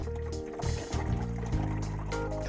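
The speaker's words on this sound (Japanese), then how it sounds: "では給水していきます。" Warm water poured into a dishwasher inside a 14-year-old used camper van, a steady trickling fill with a low hum and some clattering underneath, fairly close and continuous.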